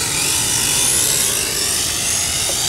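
A remote-controlled drone flying at a distance after its pilot loses control, giving a steady, loud broadband whirring drone that holds evenly throughout with no voices.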